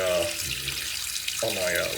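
Cold tap water runs steadily from a faucet into a sink for rinsing razors during a shave, a continuous close splashing hiss that holds through the whole stretch with brief low voice fragments at the start and end.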